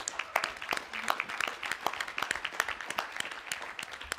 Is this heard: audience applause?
yes